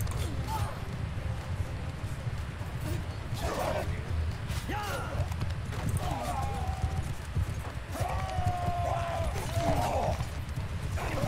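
Cavalry hooves clatter in Bannerlord Online PvP as horses gallop in a charge, a dense rapid clip-clop with occasional neighs and creaking gear, loud and close while someone talks over it.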